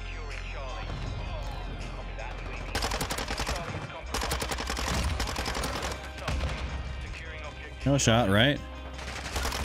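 Gunfire in Modern Warfare 2 comes as rapid automatic bursts and fusillades over several seconds, close and sharp, under a player's quiet talk.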